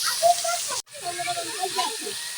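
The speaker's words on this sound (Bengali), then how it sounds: "করলা ভাজিগুলো দিয়ে দিচ্ছে।" Sliced bitter gourd frying in hot oil with potato, onion and green chili gives off a steady sizzling hiss with crackles, and a voice talks over it.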